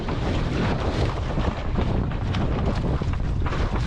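Strong wind roars across a sailboat being sailed close to shore, a dense, continuous rush with gusty buffeting against the microphone and no voices.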